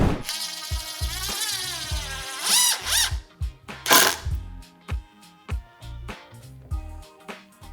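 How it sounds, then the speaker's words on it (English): Power drill driving a fastener with a Makita XTR bit during a bit-tip test, heard as close, loud bursts of whirring and stuttering motor that start and stop repeatedly, with a few sharp squeals. "We'll drive our fastener."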